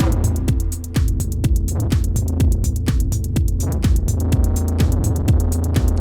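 An Uno Synth Pro X synthesizer plays a growly pulsing bass pattern with reverb over a steady electronic drum beat, loud and continuous with regular rhythmic hits.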